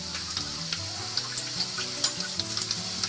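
Onions frying in a pan for crab malai curry as a spoonful of garlic paste goes in, giving a soft, continuous sizzle with faint clinks and stirring sounds on top, close and quiet.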